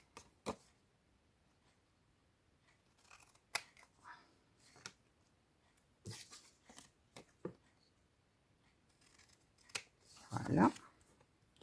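Scissors snip through a paper tag in a handful of short, sharp cuts spaced irregularly across a quiet room, with faint handling rustles between and a louder crinkling burst near the end.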